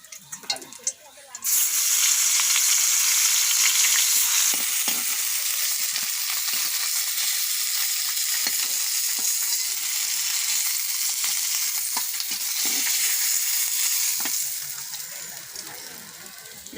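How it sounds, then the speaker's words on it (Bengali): Koi fish fry in hot oil in a pan, a loud, steady close sizzle that bursts in after a short pause and holds for a long stretch, occasionally stirred, then eases slightly at the end. "আর বাকি মাছগুলোও ভেজে নিচ্ছি।"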